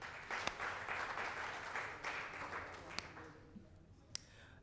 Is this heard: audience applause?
yes